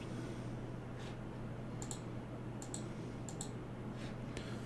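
Computer mouse clicks while working in TinkerCAD, a few light, sharp clicks in pairs and singles over steady low room hum, close and quiet, no talk.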